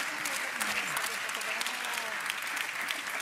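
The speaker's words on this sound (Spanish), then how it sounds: "fuerte ese aplauso para él" Audience applause at a football federation sports congress, a dense steady patter of many hands clapping throughout at moderate level, with voices faintly audible underneath.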